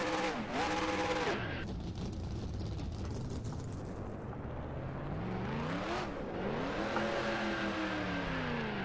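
A stock car in NASCAR Racing 2003 attempting a burnout on the Road America circuit: a loud, steady engine roar with rising and falling revs that sweep up and down, sustained throughout with no pauses.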